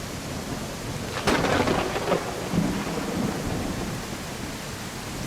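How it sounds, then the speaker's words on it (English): Thunderstorm with steady, hissing rain and a sudden crack of thunder that rumbles and fades, with no voices. "It's too early for a storm,"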